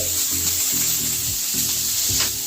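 A spice mixture with green chillies and salt fries in a pan for an egg dish, sizzling loudly and steadily up close with soft stirring scrapes over the hiss.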